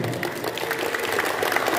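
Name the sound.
applause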